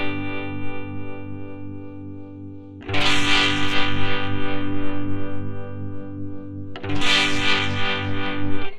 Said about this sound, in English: the tremolo adjusts the volume of the signal, so it sounds like it's like you're getting the volume knob and turning it up and down